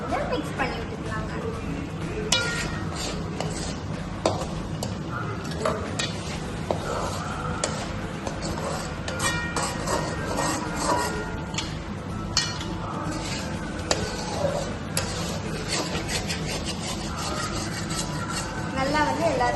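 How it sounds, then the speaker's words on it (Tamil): Egg rice seasoned with pepper and salt being stirred and scraped in a pan at home, a steady rasping, clinking scrape repeating close up under a person's ongoing talk. "இப்போ இதையும் நல்லா நம்ம மிக்ஸ் பண்ணி விட்டுக்கலாங்க"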